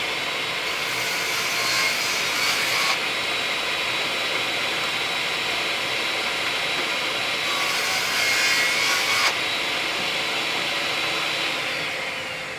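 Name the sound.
Diablo saw blade cutting wood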